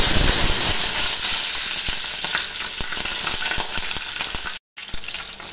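Green chillies dropped into hot oil set off a loud, dense sizzle with crackling pops, continuous and close, cutting out briefly near the end.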